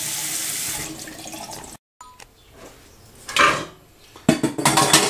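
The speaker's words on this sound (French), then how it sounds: "On les passe sous l'eau abondamment." Chickpeas being rinsed under a running kitchen tap, with water splashing into a sink in bursts of varying strength, a short silent break, then louder gushing and clattering near the end.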